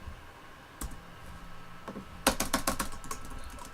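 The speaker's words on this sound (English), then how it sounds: "start typing like that" Fingers tap on a computer keyboard, starting with a few isolated keystrokes and then breaking into a quick, close burst of typing in a quiet room.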